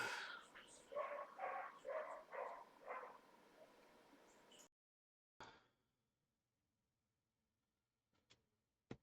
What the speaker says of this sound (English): Apologise for the dog.